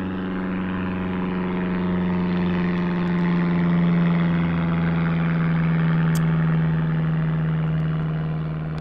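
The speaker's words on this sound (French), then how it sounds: "Et encore un avion." Propeller airplane passing overhead, a steady loud droning engine hum with a low tonal whine that swells gently toward the middle and stays constant throughout.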